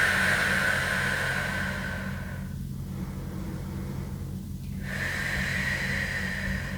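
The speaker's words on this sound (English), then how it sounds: "And we're gonna take 2 deep breaths here." Two deep breaths taken during a grounding move in an energy routine: a long, steady inhale and exhale of airy rushing sound, close and fairly loud, with a quiet pause between them.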